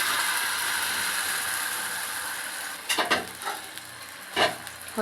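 Chicken balls frying in hot oil while CP-style chicken balls are cooked, giving a steady close sizzle throughout with a few brief utensil clatters and stirring knocks near the end.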